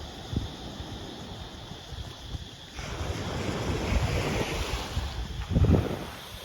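Ocean waves wash onto Kata beach in Phuket, a continuous rushing surf mixed with gusty wind buffeting the microphone, swelling to a louder surge near the end.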